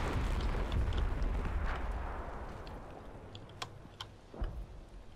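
Mortar shells landing in Combat Mission wargame combat, deep rumbling impacts rolling over a continuous low battlefield din, then a few sharper distant cracks and thumps toward the end, no voices.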